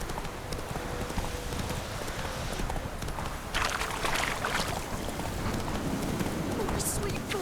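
Roach, the horse in The Witcher 3, gallops with a steady, rapid rhythm of hoofbeats under rain-like background noise, with a voice talking over the run and a brighter burst near the end.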